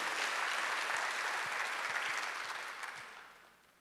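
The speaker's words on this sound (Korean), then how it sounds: "박수 하나 주세요." Applause from a congregation at a Sunday church service: dense, steady clapping that holds loudly, then fades away near the end, with no voices.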